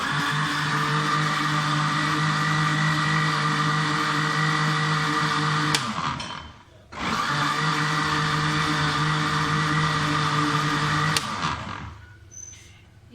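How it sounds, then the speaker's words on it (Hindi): An electric kitchen grinder blends lassi with gram flour into a batter for kadhi, a loud steady whirring drone that cuts out briefly, restarts, then stops near the end. "यहाँ पे ग्राइंडर में लस्सी डाल के इसमें बेसन शामिल कर दिया है"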